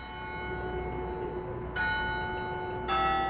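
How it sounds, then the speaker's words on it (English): Church bells ringing out a well-known hymn tune, clear sustained tones struck one after another and left to ring, with a fresh strike landing about every second and a half, moderately distant and without any voices. "Even the church bells play it daily."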